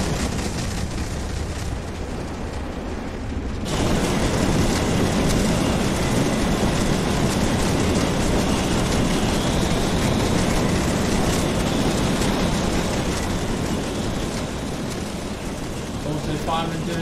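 An LNER Gresley A3 steam locomotive runs in a train simulator game. A dense, roaring rumble of engine and track noise swells suddenly louder a few seconds in and then holds steady and loud to the end.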